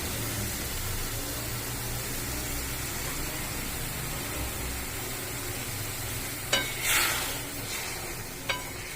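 Paneer keema cooks with spices in a pan, giving a soft, constant sizzle. Near the end, a few sharp scrapes and a splash come as hot water goes in and the mix is stirred. No one speaks.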